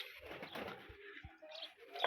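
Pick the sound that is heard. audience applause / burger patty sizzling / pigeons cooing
pigeons cooing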